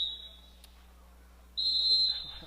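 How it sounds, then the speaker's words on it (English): A referee's whistle blows at a high school wrestling dual meet, two shrill sustained blasts, a short one at the start and a longer, louder one near the end, over faint gym noise. "whistle blows"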